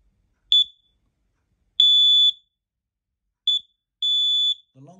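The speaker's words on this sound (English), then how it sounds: "The long beep means that the device is clear." Interlinked battery smoke alarm sounding after its test button is held: four shrill electronic beeps, short, long, short, then long, alone in a quiet room, with faint rustling at the end.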